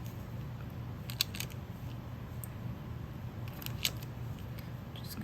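Scissors trimming cured UV resin for an autumn pendant, a few faint crisp snips over a steady low background hum.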